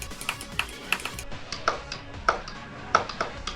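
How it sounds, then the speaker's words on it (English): Mouse clicks keyed to a Geometry Dash level, the cube-portal and red-orb section Coolie Mazie Paloozi, arriving as sharp, evenly spaced taps about every half to two-thirds of a second, small and close with no other sound. "The click pattern should sound something like this."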